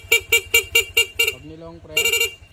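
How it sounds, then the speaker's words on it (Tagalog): A Honda Click V3 scooter's dual horn gives a quick run of six loud, evenly spaced beeps, pauses briefly, then sounds another short burst of honks, all close to the listener. "Ito naman po yung switch ng dual horn."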